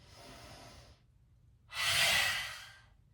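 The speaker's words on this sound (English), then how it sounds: "Once more, breathe in." A deep yogic breath is taken during a vinyasa flow. A softer airy breath is followed by a pause and then a fuller, louder breath in, heard close and alone with no talking.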